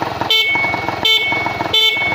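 A motorcycle horn honks three times in short, evenly spaced beeps, loud and close, over an idling engine.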